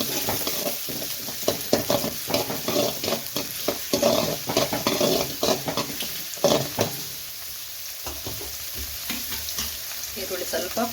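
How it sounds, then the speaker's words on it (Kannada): Curry leaves and a chopped onion fry in a hot pan for simple noodles, crackling loudly and continuously while a spoon stirs and scrapes in a brisk, uneven rhythm. "ಸ್ವಲ್ಪ ಕರಿಬೇವು, ಒಂದು ಈರುಳ್ಳಿ, ಸ್ವಲ್ಪ ಫ್ರೈ ಮಾಡ್ಕೊಳ್ಳೋಣ."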